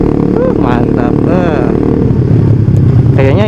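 Kawasaki Ninja 250 two-cylinder motorcycle engine running loud and steady nearby while riding with a touring group, its rising and falling revs mixed with wind and other traffic, with people talking over it.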